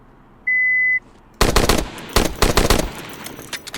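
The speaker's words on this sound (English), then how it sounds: "We can dump a bunch of rounds quickly" A sporting-model rifle fitted with a tactical light fires a rapid string of about six shots, loud and close, each crack trailing into echo. A short electronic beep sounds just before the burst.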